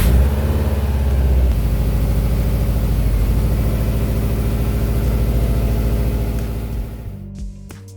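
2004 Subaru WRX put in gear after front caliper replacement, engine running steadily near and loud with a low drone and slight revving, then dropping away to near quiet at the end.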